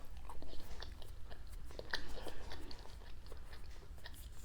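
Close, crunchy chewing of homemade paprika or herb cheese eaten without bread, with irregular soft bites and mouth noises throughout at low volume.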